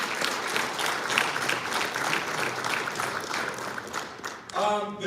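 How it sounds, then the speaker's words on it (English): Audience applause for players' parents at a 2020 football banquet: steady, moderately loud clapping from a crowd in a hall for several seconds, with a voice starting to speak at the very end. "let's give your parents a round of applause"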